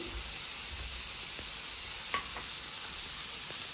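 Chopped garlic greens and capsicum sauté in butter in a pan, making a soft continuous sizzle with a few light stirring scrapes and utensil touches, and no voices.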